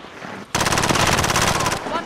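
Machine gun fire in Call of Duty: Modern Warfare, a loud, dense burst of rapid shots that starts abruptly after a short quiet lead-in and rattles on for over a second before dropping back.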